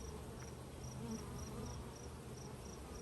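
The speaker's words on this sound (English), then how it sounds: "This was the biggest swarm we've caught of the year." A large swarm of honey bees, just caught from a tree, gives a faint, continuous low buzzing drone, with a soft, regularly pulsing higher chirp over it.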